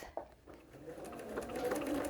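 A sewing machine stitches through a T-shirt rag quilt, a short quiet run of steady mechanical whirring that builds slightly toward the end.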